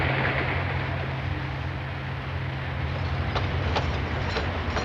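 Passenger train 406 rolls steadily along the rails with a loud, continuous low rumble and wheel noise, a few sharp metallic ticks near the end and faint bird sounds in the background.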